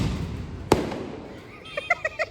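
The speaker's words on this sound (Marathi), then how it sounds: "हे बघा हा एक रॉकेट." A Diwali firework rocket gives one sharp, loud bang close by. Short tonal honking or squealing bursts follow over a low background rumble.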